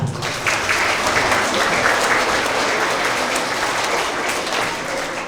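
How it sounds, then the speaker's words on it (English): Dense, steady applause fills a school award assembly hall for kindergarten and transitional kindergarten students, loud and continuous throughout with a faint murmur of voices underneath. "Let's give another round of applause for all of our TK and Kinder Tigers of the quarter."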